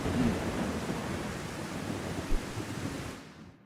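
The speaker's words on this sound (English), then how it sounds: "since when did it rain in Ishgard? Or thunder, even." Steady rain hisses over rolling low thunder in the city of Ishgard in Final Fantasy XIV, a broad continuous wash of noise that swells briefly with a rumble before fading out at the end.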